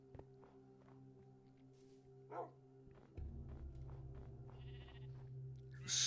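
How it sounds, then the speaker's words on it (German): Sheep bleating in the video game Minecraft, a few short bleats over steady in-game ambient tones, with light footsteps and other game effects, no talking. "Hier sind Schafe."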